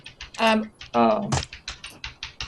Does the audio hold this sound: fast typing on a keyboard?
yes